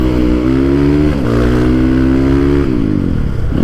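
A Gazgas GE250 supermoto motorcycle rides past close and loud, its engine droning steadily and climbing in pitch through two gear changes before easing off at the end.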